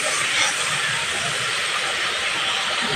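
Spices and a little chopped tomato sautéed in oil over a medium gas flame, giving a steady, loud, continuous sizzling hiss with no pauses and no talk.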